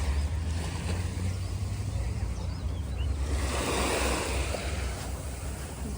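Sea waves wash and break at a Hong Kong shore, a rushing surf that swells and eases over a low wind rumble on the microphone, fairly close and without talking.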